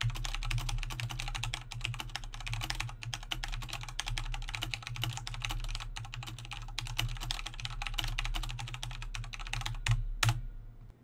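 Rapid, steady typing on a computer keyboard picked up by a Blue Yeti condenser microphone, dense close key clicks over a constant low hum, ending with a sharp final keystroke.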